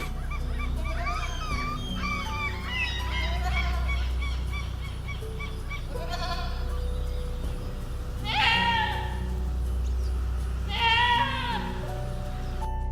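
Bighorn sheep bleating outdoors, several drawn-out wavering calls from the herd over a steady low rumble of background noise, some calls louder and nearer than others.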